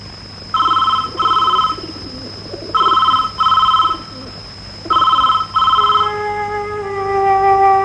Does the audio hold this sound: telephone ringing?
yes